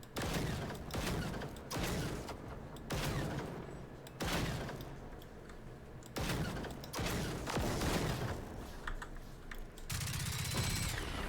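Rapid gunfire aimed at a tank's gun in the video game Generation Zero, with bursts of loud shots in quick, uneven clusters across the whole stretch and no speech.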